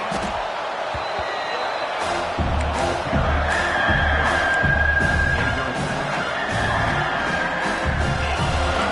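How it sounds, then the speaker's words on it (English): A football stadium crowd roars in a steady, loud wash of cheering that swells slightly midway, with an announcer talking over it. "The roar of the crowd trying to fuel this defense to keep them pinned in their own end."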